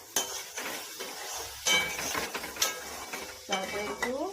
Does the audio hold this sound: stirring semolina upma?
yes